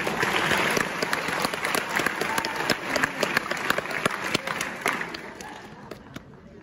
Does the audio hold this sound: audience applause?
yes